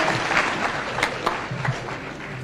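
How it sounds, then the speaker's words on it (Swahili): A crowd at an interdenominational church service in Nanyuki Stadium applauds, a steady outdoor patter of many hands clapping with a few sharper claps standing out, continuous and moderately loud without speech over it. "Siku nipigia makofi jameni."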